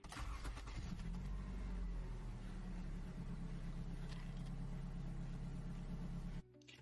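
Vehicle engine idling steadily for a leak check with UV dye added to the oil, a constant low hum holding close and even for several seconds before cutting off abruptly near the end.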